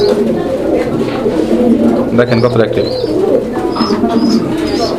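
Pigeons coo softly in the background at a pigeon farm, repeated low murmuring calls of a male pigeon, while someone talks over them throughout.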